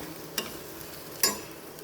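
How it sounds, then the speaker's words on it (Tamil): Blood fry cooking in a pan, a low steady sizzle with two brief scraping stirs of a spoon against the pan, close and fairly quiet, no voices. "இது கொஞ்சம் அப்படியே வேகட்டும் அப்பப்போ பிரட்டி விட்டுக்கிட்டே இருக்கணும்"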